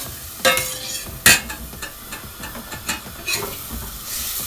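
Onions sautéing in melted butter for a milk and mushroom soup, a soft steady sizzle broken by a few sharp clinks and scrapes of a utensil against the pan.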